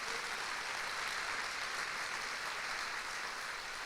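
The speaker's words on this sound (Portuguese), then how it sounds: "Vamos dar salva de palmas para um Deus que é eterno?" A church congregation claps together during a service, a dense, steady burst of applause that holds evenly throughout with no voices over it.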